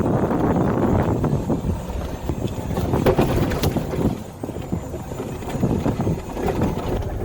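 Steady wind buffeting the microphone of a camera riding on a golf cart over a bumpy course road on a cloudy, breezy day, a continuous loud rumbling roar with occasional thumps and no speech.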